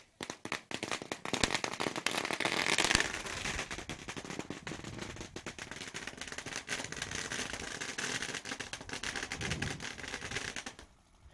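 Firecrackers at a bullock cart race go off in a long, dense, rapid string of sharp pops and cracks. The bursts are loud and continuous for about ten seconds, then stop abruptly.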